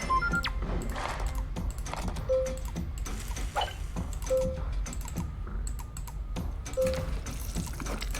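Rapid, irregular mouse clicks while playing the cooking game Burger Shop, crisp and close over a steady game-music bed, with occasional short in-game chimes between bursts of clicking.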